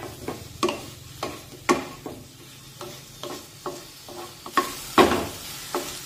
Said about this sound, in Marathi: तर आता टोमॅटो सुद्धा 2 मिनिटे कांद्यामध्ये परतून घेऊया.